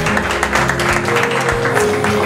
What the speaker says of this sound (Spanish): Fuerte el aplauso para la primera pareja.